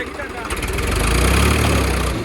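A heavy tractor engine chugs steadily nearby during the wheat harvest and grows louder as it revs, with a voice speaking over the rumble.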